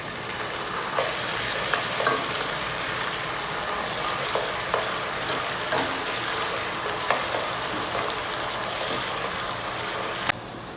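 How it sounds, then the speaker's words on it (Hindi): Chicken being bhuna-fried with karela, garam masala and yogurt, a loud, dense, continuous sizzle with occasional stirring scrapes and clicks heard close up and without talk. "चिकन की भुनाई हो चुकी है।"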